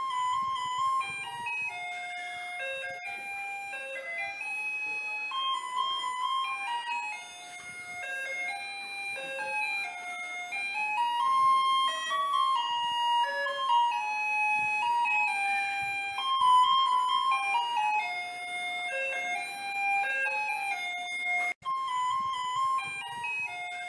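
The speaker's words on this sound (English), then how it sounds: "Let's watch a video first to have a clear view of the unique garbage collection scene like no other." A Taiwanese garbage truck plays its jingle on an evening collection route, a bright, electronic-sounding melody that repeats steadily and fairly loud, with a faint hint of traffic beneath and a brief click near the end.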